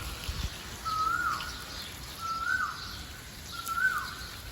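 A koel repeats its rising call three times at an even pace on a foggy winter morning in Dhaka. The calls are fairly clear over a soft, steady outdoor hiss.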